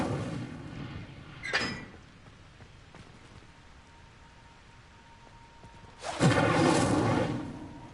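In Hogwarts Legacy, the Incendio fire spell is cast, with a short fiery whoosh, then a louder, longer roaring burst of flame a few seconds later over a low, steady game ambience.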